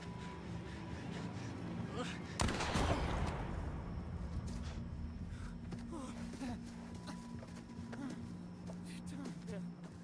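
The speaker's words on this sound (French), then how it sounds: "moi j'ai tiré dessus" A single sharp gunshot cracks out in The Quarry, loud and sudden, then fades into a lingering rumble while voices talk quietly in the background.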